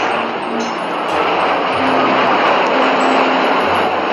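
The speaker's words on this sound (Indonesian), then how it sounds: "Wow, ini ada pesawat terbang penumpang." A loud, steady jet-engine roar from a toy passenger airplane drones on without a break, with faint electronic tones in the background.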